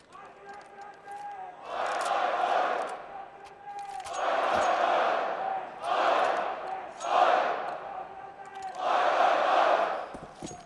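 Crowd at an IEM Sydney CS:GO esports quarterfinal roars in repeated swelling waves of cheering and shouting, loud and broad, with a commentator's voice running through it.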